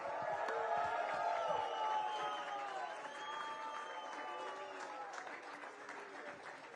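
Spectators at a TCR World Tour motor race in Vila Real clap and cheer for the second-placed driver, a moderate burst of applause with scattered whoops, fading slightly toward the end.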